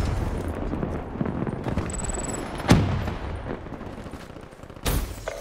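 A frag grenade explodes in Call of Duty: Black Ops 3 multiplayer, one heavy burst rising out of dense, continuous gunfire and game noise, with a second loud hit near the end.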